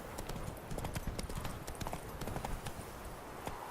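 Roach the horse trots in The Witcher 3, a steady run of close hoof clip-clops in quick rhythm, faint and continuous throughout.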